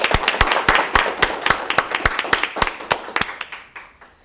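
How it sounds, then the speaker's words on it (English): Sharp, close handclaps at a virtual gala ring out in a steady, regular rhythm, a few hands beating about five times per second before tapering off at the end. "So please help me to give a warm applause to our superstar"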